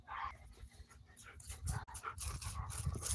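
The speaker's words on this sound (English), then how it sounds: "My dog is mad." A dog pants hard close by and lets out short whimpers and yips in uneven bursts, loud and restless throughout.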